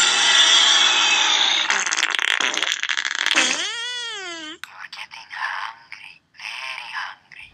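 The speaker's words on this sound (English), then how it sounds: "I need to fart like crazy. I'm going to rip one." Cartoonish fart noises from an animated unicorn comedy: a long loud raspy blast, then a wobbling rising squeal, followed by shorter sputtering bursts, with voices heard around them.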